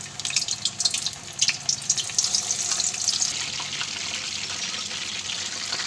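Chicken lollipops dropped one by one into hot oil give a steady, close bubbling sizzle with bright crackle and spatter, louder popping bursts in the first seconds, then settling to an even hiss with no talking.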